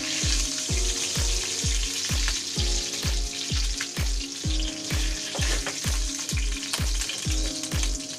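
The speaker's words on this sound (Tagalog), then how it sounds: "At igigisa na po natin ang ating salsa." Salsa for fried sapsap fish sauteing in oil in a pan, a loud steady sizzle with a rapid, regular rhythmic clatter of stirring or tapping running throughout, no talk.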